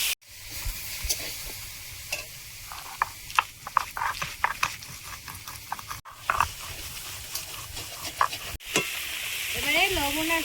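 Fried prawns stirred into simmering vegetables in a Bengali pan dish, with a continuous sizzle, frequent clicks and scrapes of a spatula, and a brief warbling tone at the end.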